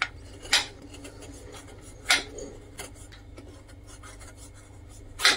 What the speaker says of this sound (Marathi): त्यासाठी मी गूळ कट करून घेणार आहे बारीक